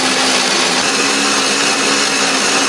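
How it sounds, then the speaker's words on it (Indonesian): A kitchen blender grinds spice paste with a little water or oil, a loud, steady whirring roar that fills the whole stretch without a break and with no voices. "Aku menghaluskannya menggunakan blender."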